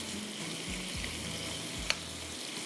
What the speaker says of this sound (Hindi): तेल गरम करने के बाद हम इसमें अंडरकट के स्ट्रिप्स डाल देंगे। इसको अच्छी तरह से हम फ्राई करेंगे।